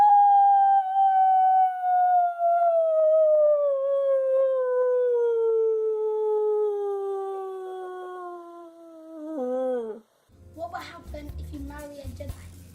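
A voice imitates Darth Vader's anguished howling cry: one long, sustained wail slowly sliding downward for about nine seconds before cracking off abruptly, followed by faint scuffling noise.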